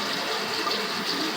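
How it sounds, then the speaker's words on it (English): A bathroom tap runs steadily as hands are about to be washed, giving a continuous close hiss of flowing water with no talk. "Turn on your water."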